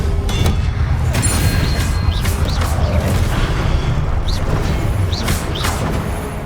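Spell effects from the Hogwarts Legacy video game, fire and disarming spells, as dense layered magical whooshes and booming impacts over a constant loud game soundscape with rising chirps scattered through.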